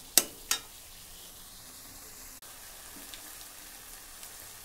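Egg and chowmein fry in a pan with a soft, continuous sizzle, opened by two sharp clattering knocks and followed by a faint click later, all quiet and close with no talking.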